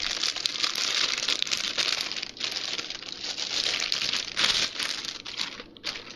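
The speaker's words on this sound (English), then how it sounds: "So just rip this out of the package." Plastic packaging for a part of an Alesis DM8 Pro electronic drum kit crinkles and tears steadily and close up for several seconds, with brief dips in the rustling and no talking.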